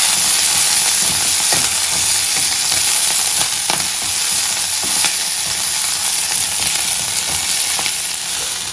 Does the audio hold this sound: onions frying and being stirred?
yes